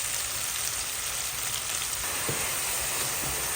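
Chicken sautés with onion, garlic and fish sauce in a hot pan, a steady close hiss and crackle with faint stirring knocks and no talking.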